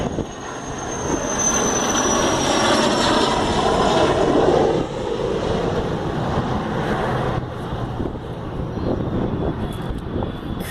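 Snowbirds aerobatic team jet aircraft fly in to land, a loud, broad roar that swells and then eases off, with a faint high whine at first and no talk.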